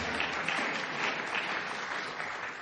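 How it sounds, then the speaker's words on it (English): An audience at a political talk breaks into a short burst of steady applause, dense and fairly close, holding at an even level. "Yeah, you can clap."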